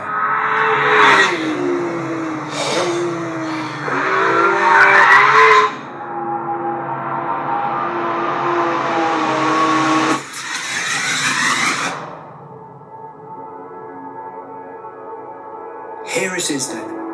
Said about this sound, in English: Here it is then, the new 911 GT3